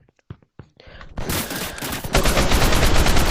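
An AK rifle fires in a video game: a couple of sharp single clicks, then a loud, sustained automatic burst that roars continuously to the end.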